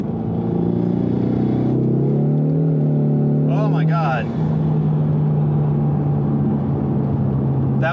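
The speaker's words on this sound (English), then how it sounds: "That was definitely some tire spin in the 3-4 shift at about 50." A car engine revs hard and close in drag strip mode, its pitch climbing and then dropping at quick gear shifts, tires spinning at the 3-4 shift around 50, with a brief exclamation from someone inside.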